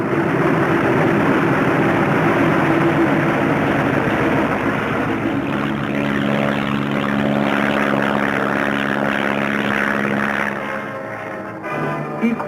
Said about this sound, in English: a first flight takes off in the sunrise, others following at regular intervals